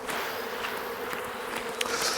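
Honeybees at an open hive during inspection make a continuous soft buzzing hum, steady and close, with a few faint clicks and rustles over the drone.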